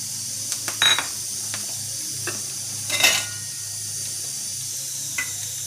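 Whole spices and coriander seeds roast in a little oil with a low, steady sizzle, broken by a few sharp clinks and scrapes of a spoon against the pot. The sounds are close and quiet, and nobody speaks.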